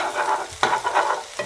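Egg frying with lai greens in a pan, a loud close sizzle broken by a few sharp scraping stirs of a spatula against the pan.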